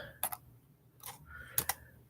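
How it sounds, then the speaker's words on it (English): Fingers tap on a computer keyboard in three short bursts of two or three crisp clicks each, close and fairly quiet, with pauses in between. "Let me type that in."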